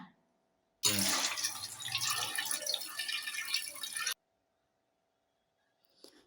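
Water is lightly sprinkled while making urad dal vada, splashing in a burst lasting a few seconds, close by, then quiet with a faint drip afterward.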